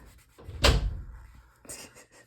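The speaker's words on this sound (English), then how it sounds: "Shut the door, please." A door is shut in a home, giving one solid thud with a brief rattle, followed by a second softer knock moments later; no one speaks.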